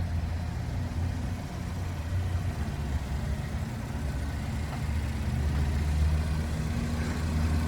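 A 2017 Chevrolet Equinox LS with a 2.4-liter naturally aspirated four-cylinder and six-speed automatic hums steadily in a low, even drone, its engine running continuously without change in pitch and no voices over it.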